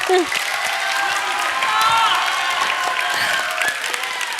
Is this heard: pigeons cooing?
no